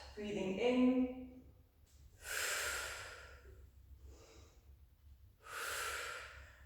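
Slow, steady breaths in and out during a Pilates spiral twist on the mat, two long airy exhales standing out clearly between quieter inhales, close and distinct, with a brief voiced sound at the start.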